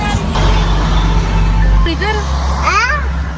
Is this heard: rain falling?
no